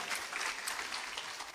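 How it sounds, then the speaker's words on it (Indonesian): Brief burst of audience applause at a seminar: dense, steady clapping from a crowd, fairly quiet and even for under two seconds. "Tepuk tangan Bapak Ibu sekalian."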